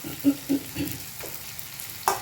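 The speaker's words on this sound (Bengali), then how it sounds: "আমি এবারে টমেটোটাকে দিয়ে দেবো," Tomato goes into a pan of lightly fried onions, with a few spaced clattering stirs over a faint, steady sizzle. A sharper scrape comes near the end.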